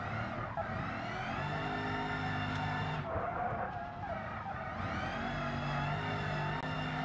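A car drifts through turns in the BeamNG driving game, tires squealing and skidding continuously with a sustained engine drone, the pitch dipping briefly midway before climbing again.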